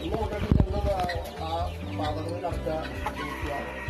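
Native country hens and young birds cluck and murmur close by in a steady, busy chorus, with a louder burst early on and people talking faintly underneath.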